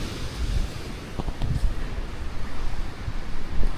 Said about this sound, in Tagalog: Malakas ng hangin sa labasan